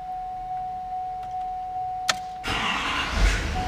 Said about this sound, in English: Truck fires right up.